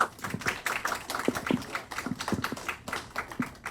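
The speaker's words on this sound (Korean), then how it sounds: "큰 박수로 환영해 주시기 바랍니다." Scattered applause at a listed REIT investor meeting in Korea, a small audience clapping unevenly and fairly quietly with distinct individual claps rather than a dense roar.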